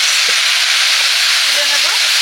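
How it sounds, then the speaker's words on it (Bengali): Potatoes shallow-frying in hot oil in a pan, a steady loud broadband sizzle throughout with a few faint clicks and a brief low scrape near the end. "আলুগুলো হালকা ভেজে নিয়েছি"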